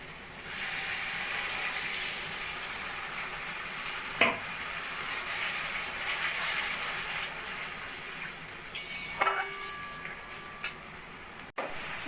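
Kashmiri chilli spice paste is sautéed with a little water in a pan, giving a steady, moderate sizzle with a few sharp clinks of a spoon against the pan.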